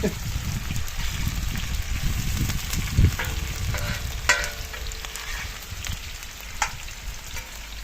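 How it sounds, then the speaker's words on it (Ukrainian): Onion frying in a pan for a carp dish gives a close, steady sizzle and crackle throughout, with a few sharp clicks and scrapes from stirring. "Цибуля вже обсмажилась, вона швиденько смажиться."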